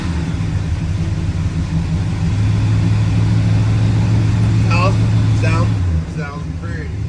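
A 1972 Pontiac with a 400 engine cold-starts and runs loud and close, a steady low rumble with a rising rev held for several seconds before it drops back to idle, with brief voices near the end.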